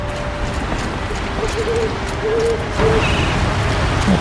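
An owl hoots in the video game Horizon Zero Dawn, a few soft, tonal calls over continuous game ambience and footstep-like thuds, fairly faint within the mix.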